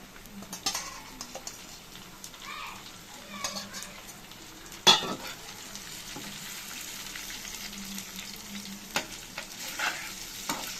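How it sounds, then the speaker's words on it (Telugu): Small village eggs fry in a pan, a faint steady sizzle with occasional utensil clinks and one sharp knock midway, quiet and close with little else around. "ఈ గుడ్లు బాగా వేగించుకోవాలి వేగిపోయాయి ఇప్పుడు గుడ్లు వేసేసుకుందాం"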